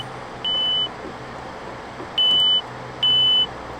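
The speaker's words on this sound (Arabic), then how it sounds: "كان انذار، ماشي." Three electronic alarm beeps sound inside a horror video game, a short tone followed by two longer ones spaced apart, each clear and steady over a low background hum.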